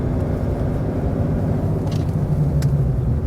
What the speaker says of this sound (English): we're going to get up to approximately 30 k's an hour and do a nice brake as you would do